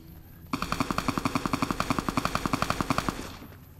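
Enemy machine gun in Fallout: New Vegas fires one sustained burst of about thirty evenly spaced rounds, fairly close and steady, then it stops abruptly.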